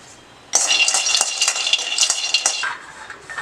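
Almonds roasting in a hot pan on slow flame, bursting into a loud, close crackling sizzle after half a second of quiet, with scraping and stirring through to the end.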